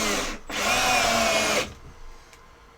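Power drill driving decking screws into scrap 2x4 wood in a basement, one loud whirring burst of about a second, then quiet.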